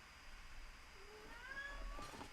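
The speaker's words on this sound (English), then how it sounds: "Also, my cat is here" A house cat meows softly in a quiet room, a couple of faint, drawn-out calls near the end over low background hum.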